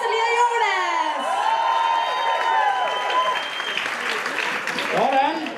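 Loud audience applause and cheering at an award show, a dense wash of clapping with shouts and whoops, while whistle-like squeals and voices ride over the crowd throughout.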